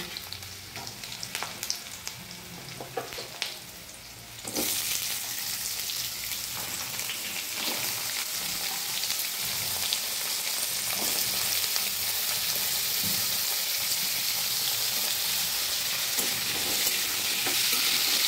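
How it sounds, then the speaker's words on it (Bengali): Potatoes are added to onions frying in oil. A few clattering stirs come first, then a loud, dense sizzle takes over and keeps building steadily, with no voices. "এবার আমি আলুগুলো ভেজে নেব।"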